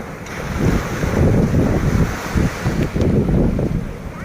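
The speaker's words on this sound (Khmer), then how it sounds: "រលកច្រើនណា" Strong sea waves crashing on the shore under gusting wind, a loud continuous roar with surging pulses and heavy wind buffeting on the microphone.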